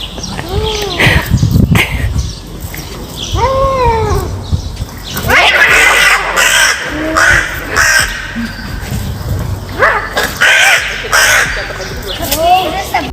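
A crow caws repeatedly and loudly up close while cats yowl and screech in a fight, with people talking over the commotion.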